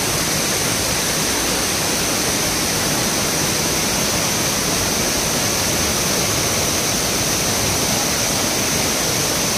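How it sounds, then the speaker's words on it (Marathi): Waterfall at Savdav in Konkan, a loud, constant broadband roar of falling water, steady and unbroken throughout with no voices. "एक नंबर धबधब्याचा व्ह्यू आहे."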